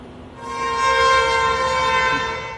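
A vehicle horn sounds in a long, steady, loud blare from a passing vehicle at a street protest, holding a single sustained tone for more than two seconds.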